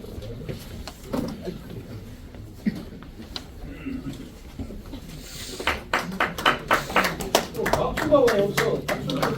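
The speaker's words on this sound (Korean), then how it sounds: "모두 박수 쳐주십시오" A church council audience in a seminar room claps, with scattered taps building into fuller applause during the second half, while someone talks over the room throughout.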